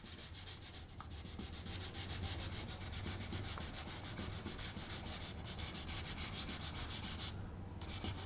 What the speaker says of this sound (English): Next thing I do is rough this area up with a little like 320 sandpaper.